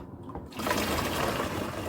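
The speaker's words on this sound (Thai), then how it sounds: "เดี๋ยวเราจะเทน้ำองุ่นลงไปในถังหมักเลย" Grape juice poured into a fermentation tank while making grape wine, a steady splashing liquid rush starting after a brief quiet moment and continuing loud and close to the end.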